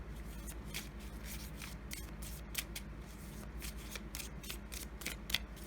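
Tarot cards are shuffled by hand, close and quiet, in rapid rhythmic riffling bursts that repeat steadily.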